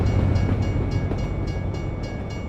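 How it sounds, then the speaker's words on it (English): A passenger train rolls past in the American Truck Simulator video game, a steady loud rumble with faint rhythmic clatter and a high whine, fairly close, with no voices. "It's a passenger train."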